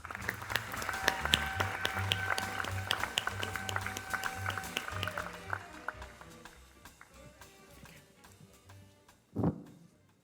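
Applause from an audience in a theatre at an anniversary ceremony, a dense patter of clapping that thins and fades away over several seconds, then a single louder thump near the end.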